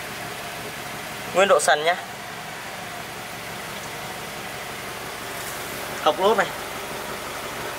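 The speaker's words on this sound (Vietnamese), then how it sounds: "Máy nổ êm ru đây" Ford Escape with automatic transmission idling in a steady, smooth low hum, close by, while someone speaks briefly twice over it.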